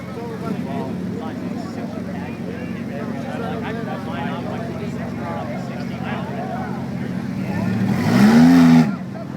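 A rock crawler off-road vehicle at a rock crawling competition, its engine droning steadily under ongoing commentary, then revving hard in a brief loud burst near the end.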